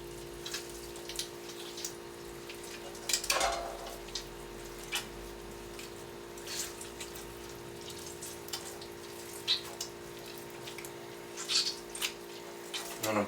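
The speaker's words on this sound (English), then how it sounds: "I'm kind of squeezing out a little water" Seitan dough being squeezed by hand to press out water, giving soft wet squelches and drips that come and go over a steady background hum, with a voice talking now and then.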